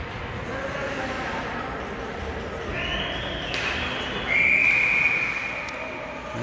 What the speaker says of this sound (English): I'll get a whistle blown.